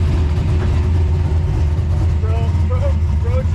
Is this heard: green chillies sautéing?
no